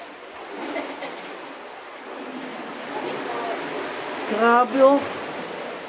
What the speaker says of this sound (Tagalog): Nagngangalit yung ano, alon.